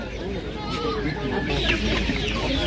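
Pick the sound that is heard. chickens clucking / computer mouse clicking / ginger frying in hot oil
chickens clucking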